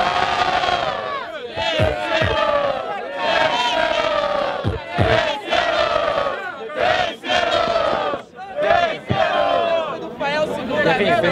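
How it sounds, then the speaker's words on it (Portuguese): Battle rap crowd at the Batalha do Tanque in São Gonçalo cheering, whistling and shouting loudly and continuously, a dense near roar that swells and dips in waves. "Barulho, quem gostou da rima do MC Chão?"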